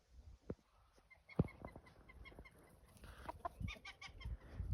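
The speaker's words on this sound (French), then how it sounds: "Et le coq." Chickens and a rooster on a small farm with a goose nearby make quiet, close, scattered clucks and short calls, irregular and without talk.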